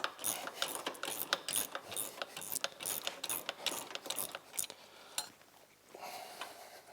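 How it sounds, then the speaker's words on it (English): Ratchet turning the hub nut on a Polaris RZR during an axle replacement, rapid clicking pawl strokes in quick bursts, close and fairly quiet, slowing and stopping near the end. "Turn in the nut."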